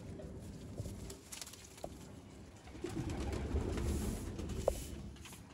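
Low pigeon coos drift through a quiet loft of Mian Nazir bloodline pigeons, faint and intermittent against soft background noise.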